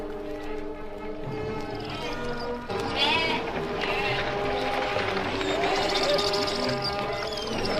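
Sheep bleat among a herd of livestock, wavering cries rising and overlapping through a busy, continuous background of animal sounds.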